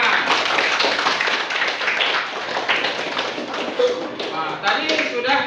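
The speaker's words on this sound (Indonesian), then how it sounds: "Oke, tepuk tangan." An audience of students at a school assembly clapping together, a continuous busy patter of many hands at moderate loudness, with some voices mixed in throughout.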